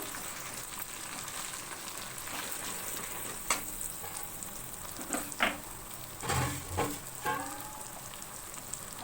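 Amul butter sizzles with pieces of fried chicken in a pan, a steady loud frying hiss broken by several stirring scrapes and clatters toward the end, with no voices.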